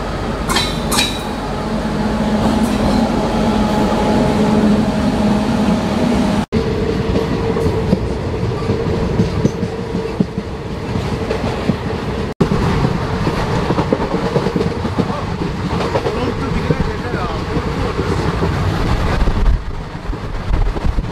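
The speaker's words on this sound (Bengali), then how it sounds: "লোকাল ট্রেন আসছে, এখানকার লোকাল ট্রেন খুব সম্ভবত" A local train near Madurai rolls past close by, a loud continuous rumble with rhythmic clickety-clack of wheels over rail joints and wind buffeting the microphone, lasting throughout with no talk.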